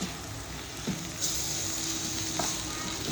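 Mutton masala, coriander powder, red chilli, black chilli and turmeric frying in hot oil for Khandeshi shev bhaji, a steady close sizzle with soft stirring scrapes and no voices.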